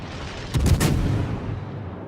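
Heavy warship guns, a GK battleship's main battery in a naval combat game, fire in a rapid ripple of deep booms that roll into a long, rumbling decay, loud and close, with no voices.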